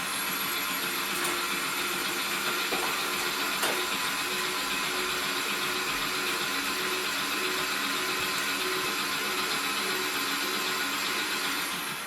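Electric mixer steadily churning carrot cake batter with grated carrot and dried fruit, producing a constant loud motor whir with no pauses.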